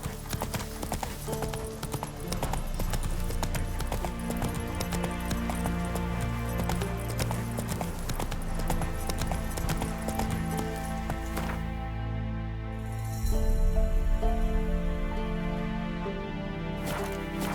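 Roach, a horse in The Witcher 3, gallops with steady, driving hoofbeats under a full orchestral music score that swells louder near the end.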